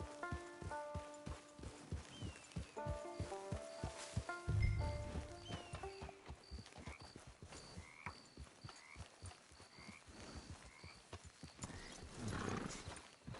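Horse hooves clip-clop at a steady pace in Red Dead Redemption 2, with a whinny and snort around the middle, while game music plays in the background.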